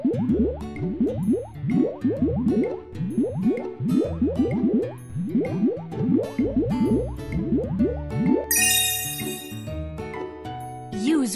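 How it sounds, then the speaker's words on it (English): A soapy brush scrubs a garbage truck in a cartoon, heard as a rapid, rhythmic run of wet, squishy, bubbly effects repeating over and over, ending in a brighter sparkling shimmer. "Use the soap to make bubbles on the brush."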